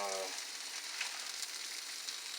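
Brussels sprouts sautéing in a pan give a faint, even sizzle with soft crackles throughout, no talking over it.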